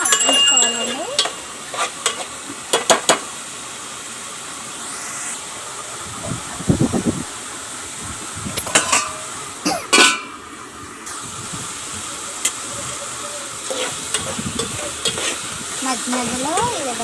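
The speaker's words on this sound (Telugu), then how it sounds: "మధ్యలో ఈ విధంగా కలుపుకుంటూ లో ఫ్లేమ్లోనే ఉల్లిపాయ ముక్కలు అనేది గోల్డెన్ బ్రౌన్ కలర్లోకి వచ్చే వరకు మగ్గించుకోవాలి." Onion pieces fry slowly over a low flame while a utensil stirs them in the pan, a steady sizzle broken by scraping strokes and louder clatters near the start and middle.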